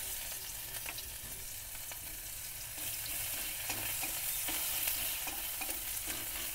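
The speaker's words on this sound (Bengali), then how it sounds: "আমি তেল দিয়ে দিয়েছি কড়াইতে। এবার পেঁয়াজ লঙ্কা আর রসুন কুচানো দিয়ে দেবো।" Chopped onion, green chilli and garlic fry in oil in a wok with a continuous low sizzle and faint crackling that grows slightly louder partway through.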